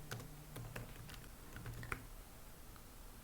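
Faint typing on a computer keyboard, a quick scatter of soft key clicks against a low steady room hum, close but quiet, no talking.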